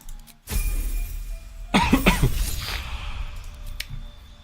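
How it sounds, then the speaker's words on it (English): A person coughs in a few harsh bursts close to the microphone, followed by a lingering rough throat sound. "I'm sorry for the constant coughing"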